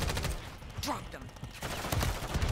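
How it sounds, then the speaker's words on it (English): Rapid bursts of gunfire in Call of Duty: Modern Warfare 3 multiplayer, a submachine gun build, crackling in quick volleys under a steady game mix with speech at moments. "Taking fire."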